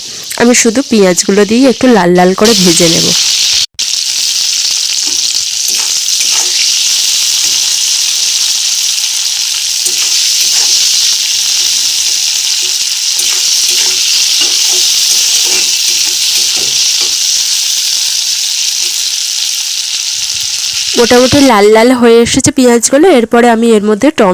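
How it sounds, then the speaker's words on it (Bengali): Chopped onions frying in oil in a pan for a home-style chicken curry, a loud steady sizzle and hiss lasting about eighteen seconds, with someone talking briefly before and after. "এর মধ্যে পেঁয়াজ কুচিগুলো দিয়ে দেব"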